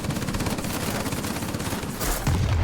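Rapid machine-gun fire rattles continuously as a BV P.203 plane gets shot up in World of Warplanes, a dense stream of shots ending with a heavier low rumble.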